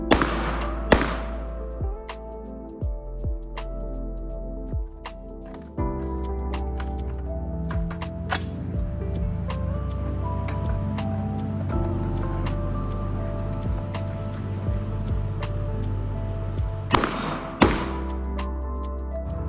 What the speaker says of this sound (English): shoot from behind cover, 2 shots on steel, back in cover,